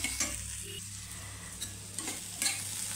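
Ingredients for radish chutney sizzle steadily in a hot pan while a utensil stirs and scrapes them now and then, close by.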